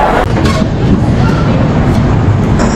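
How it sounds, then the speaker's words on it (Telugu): Train at Jhansi station on a scorching hot day, loud close rumble of rolling carriages with a steady low clatter over a few seconds. "ఝాన్సీ స్టేషన్లో ట్రైన్ ఆగింది."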